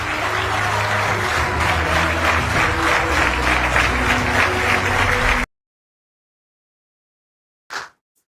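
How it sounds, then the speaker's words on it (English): Thunderous applause in the British Parliament, a dense, sustained roar of many hands clapping that cuts off abruptly, followed by silence and a brief faint noise. "Thunderous applause."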